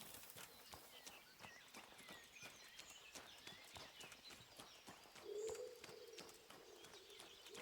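A single low, cooing bird call rings out in the medieval open-world game Kingdom Come: Deliverance. It is brief and fairly clear over a steady clip-clop of hooves and faint outdoor ambience.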